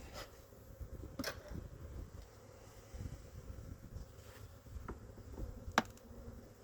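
Honey bees flying around a hive on a February morning make a steady, soft buzzing drone nearby, with occasional louder passes of individual bees close by and no speech.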